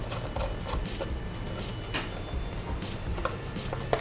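Small metallic clicks and scraping ticks come from a Wi-Fi antenna being screwed onto the threaded socket on the back of a media player, quiet and close against a low background hum.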